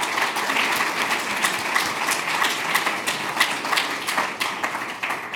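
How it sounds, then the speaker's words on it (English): An audience at an evening talks event applauds the speakers, a dense, steady wash of many hands clapping in a hall, with no talk over it. "please join me in a round of applause for all of our speakers tonight"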